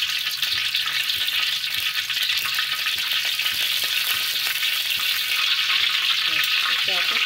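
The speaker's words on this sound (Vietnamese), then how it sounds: "Rồi giờ cho một miếng vào trong đây để mình xào ốc cho nó có cái màu đẹp" Apple snails sizzle steadily as they are stir-fried in annatto oil in a hot pan, a loud, continuous frying hiss with occasional stirring clinks throughout.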